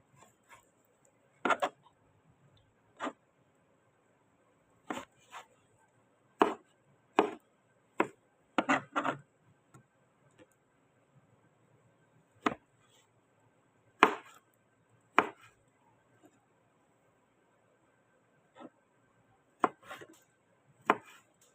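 A knife chops squash and a pig's face mask on a board at home: about twenty sharp, isolated thwacks in irregular clusters, some doubled, separated by quiet pauses.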